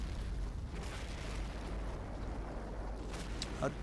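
Gunfire and explosive booms from units opening fire in the Sudden Strike real-time strategy game, a dense, continuous rumble of battle with a sharper burst near the end.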